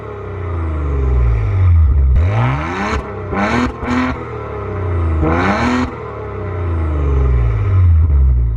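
Engine of a 2020 Maserati Levante SQ4 revs up and falls back several times, loud and close, with rising and falling harmonic sweeps and a steady rumbling idle between the blips.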